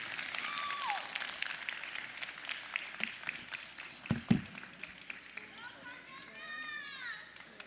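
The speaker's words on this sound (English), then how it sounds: "Let's give them a round of applause." Crowd applause and cheering at a livestock show after a steer and heifer cattle class is placed, mixed with children's voices and movement, with people talking throughout.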